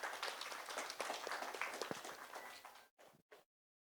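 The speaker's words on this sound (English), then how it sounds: "a huge round of applause for Vrinda Rattan." Applause at an evening poetry café in Dehradun for poet Vrinda Rattan, a fairly soft, distant patter of many hands that fades out, followed by a couple of short trailing claps before silence.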